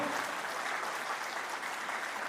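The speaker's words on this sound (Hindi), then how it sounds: "एक बार जोरदार तालियां बजाएं हमारी माता के लिए।" Steady, dense applause from a crowd, sustained at an even level throughout with no pauses.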